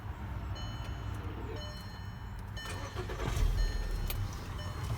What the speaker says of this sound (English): So I'm turning the car on again.